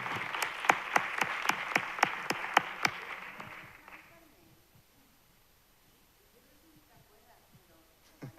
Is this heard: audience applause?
yes